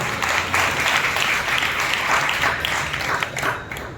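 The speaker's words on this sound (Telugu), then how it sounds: "బిగ్గరగా చప్పట్లు కొట్టి ప్రభువును స్తుతించారు" A church congregation claps loudly and continuously in worship, a dense roomful of applause lasting several seconds and easing slightly near the end.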